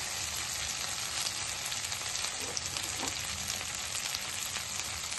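Dragon chicken frying in a pan with coriander leaves just added, a steady dense sizzle running unbroken and fairly loud throughout, with faint scraping from stirring.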